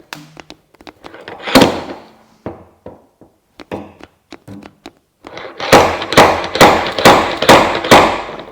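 A dent puller works on vehicle bodywork, with sharp metallic clicks and thunks scattered at first, then a run of louder, rhythmic rasping pulls close by.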